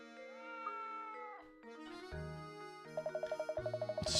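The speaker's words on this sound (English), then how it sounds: "What's this cat doing here?" A cat meows with drawn-out, wavering cries in the Professor Layton and the Curious Village video game, set against tonal game music with a quick pulsing chime at the end.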